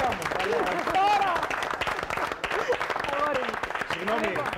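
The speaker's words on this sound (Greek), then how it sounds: "Τώρα το καλό χειροκρότημα." Audience applause in a TV studio, a dense, steady burst of clapping from a crowd that fills the whole stretch, with voices talking over it.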